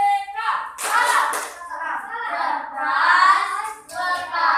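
During a Tepuk Salam PPK chant in a classroom, children chant loudly in rhythm while claps break in between the phrases.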